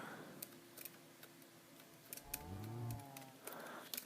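Cows mooing in Minecraft, one low, drawn-out moo rising midway through, set against quiet background ambience with faint ticks.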